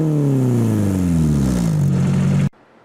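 A car accelerating past fast and close, its engine note loud and sliding downward as it goes by, then cutting off abruptly.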